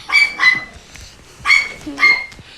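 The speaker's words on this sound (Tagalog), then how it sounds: "Yan, aso namin." Four short barks from a pet dog at home, in two pairs with a brief pause between, fairly close and clear over faint background noise.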